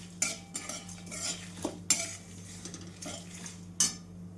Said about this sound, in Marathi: जिरं पण छान भाजून घेऊया.